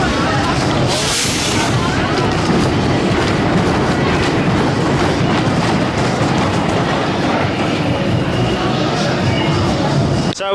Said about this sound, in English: Now we're going to go on one of my favourite roller coasters here, the Grand National.